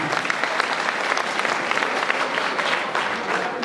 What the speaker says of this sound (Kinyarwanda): Aya mashyi nayo kubashimira ko baduhaye umunezero